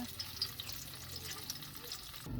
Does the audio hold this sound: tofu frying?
yes